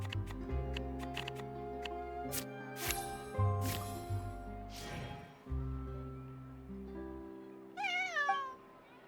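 A cat in the Genshin Impact video game gives a short, rising meow near the end, heard after stretches of layered game music and chime-like effects.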